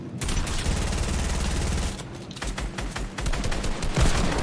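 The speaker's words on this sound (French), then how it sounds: "Vraiment, le mec, il a une mini-gun. Il a tiré sur pied, là, en fait." Sustained rapid minigun fire rattles loudly and continuously in a multiplayer shooter game, a dense unbroken stream of shots that pauses briefly and then resumes in shorter bursts.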